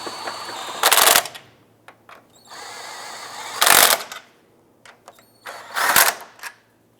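A power tool snugs down the strut nuts on a front strut assembly of a 2004–2009 Subaru Outback in three short, loud bursts separated by quieter shop noise.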